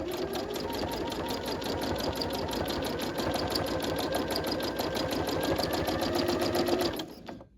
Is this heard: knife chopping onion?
no